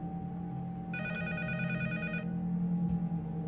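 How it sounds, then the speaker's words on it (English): A telephone rings in the horror video game P.T., a bright electronic trill lasting about a second inside a steady low droning ambience, followed by a faint click. "the phone will ring."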